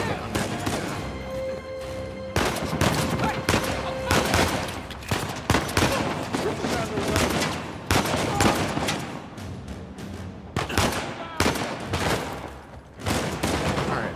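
Gunfire during a firefight in Uncharted 4, loud bursts of rapid shots in clusters with short pauses between them, some volleys dense like automatic fire, continuing across the whole stretch.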